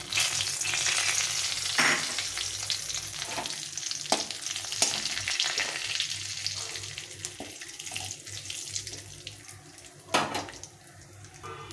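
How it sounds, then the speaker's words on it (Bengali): Dried red chillies, cumin seeds and bay leaves frying in hot oil as a tempering for a ridge gourd curry, a steady close sizzle with occasional clinks and stirring, no talk. "এখন এখানে নিয়েছি শুকনো লঙ্কা একটু জিরে আর তেজপাতা এটা ফোড়নে দিয়ে দেবো"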